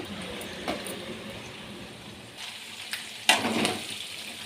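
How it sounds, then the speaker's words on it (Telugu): Chicken gizzards fry in oil over a medium flame, giving a steady soft sizzle with a few louder stirring clatters and clinks partway through. "కందనకాయలు అయితే వేగినాయండి ఇవి మీడియం ఫ్లేమ్లో పెట్టుకొని కుక్ చేసుకోవాలండి"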